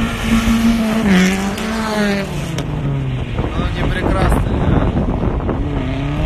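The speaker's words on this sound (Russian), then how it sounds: "Моторы крутятся. Послушайте звук." Drift car engines run at a winter drift battle in light frost, with loud revving whines rising and falling near the microphone, wind buffeting, and someone speaking briefly over them.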